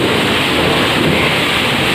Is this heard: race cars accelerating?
no